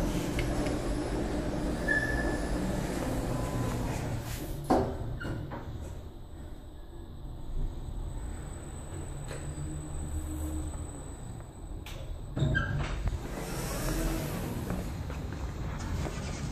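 A Schindler traction elevator motor runs in a parking-garage lift at the Big Fashion Shopping Center in Ashdod, giving a steady, close low rumble with a couple of mechanical thumps partway through.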